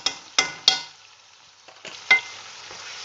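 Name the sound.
stirring ginger and garlic paste frying in pan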